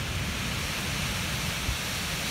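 Heavy rain pours down during a night storm, a steady dense hiss of close, constant downpour with no breaks and no voices.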